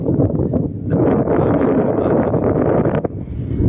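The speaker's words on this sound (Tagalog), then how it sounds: "lakas ng hangin" Loud, gusty wind buffets the microphone in a continuous low roar, close and rough throughout.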